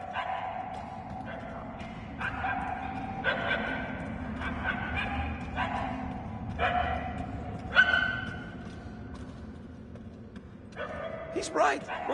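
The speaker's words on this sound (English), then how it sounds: "The barking is getting fainter." A dog barks repeatedly somewhere within indoor halls in the Guardians of the Galaxy video game, the yips spaced unevenly and moderately distant beneath a steady ambient bed, with voices talking over much of it.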